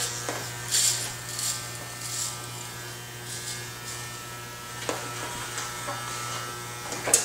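Electric hair clipper cutting hair during a brush cut, a steady close mechanical buzz with a low hum, with brief crisp snips and scraping as the blades pass through the hair.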